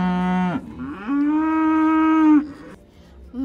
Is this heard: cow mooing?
yes